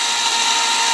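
An electric mash stirrer churns a brew-in-a-bag mash, giving a loud, steady motor whine with a constant pitched hum and no break for the whole moment.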